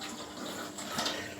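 Water runs steadily into the drum of a scrapped washing machine to rinse it, a continuous splashing, trickling stream heard close and fairly loud for over a second, with no talking.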